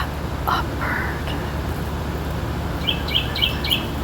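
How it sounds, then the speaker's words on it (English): Short bird chirps sound in a game scene: a couple of brief calls near the start, then a quick series of four high tweets toward the end, set over a steady low background hum. "shut up, bird."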